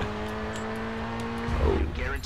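A four-wheel-drive car engine in a racing video game drones steadily, then swells as it revs up near the end, with someone talking over it throughout.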